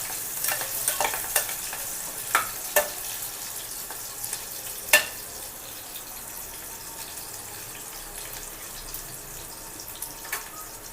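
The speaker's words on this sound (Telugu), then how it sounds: "ఉల్లిపాయ ముక్కలు కూడా వేసుకుంటున్నాం ఇవి వేగాక" Chopped onion pieces with green chilies fry in a pan for pendlam dumpa (yam) curry, a steady close sizzle with a series of sharp stirring scrapes and taps early on, then settling into an even hiss.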